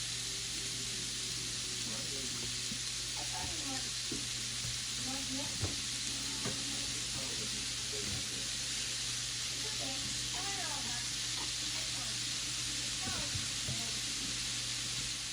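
Seasoned steak bits for Philly cheesesteaks sizzle steadily on a hot grill, a constant close hiss with faint scraping and clicks scattered through it.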